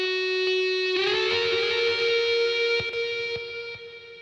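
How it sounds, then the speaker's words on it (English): A sustained, buzzy instrumental tone swells and rings out with a big reverberant wash, a few sharp clicks trailing as it slowly decays. "this is with the reverb"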